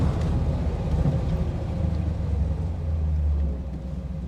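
A 1979 Corvette engine holds a deep, steady low rumble throughout, swelling slightly before easing off near the end, with no talk over it.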